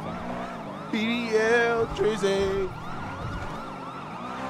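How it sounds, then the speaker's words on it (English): A wailing police siren in the game NoPixel 4 rises and falls steadily under game sounds, with a brief burst of rapping voice and music in the middle. "That wants to hear the cop sirens."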